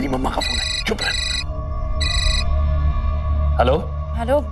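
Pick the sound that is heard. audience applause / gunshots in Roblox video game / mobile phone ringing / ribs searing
mobile phone ringing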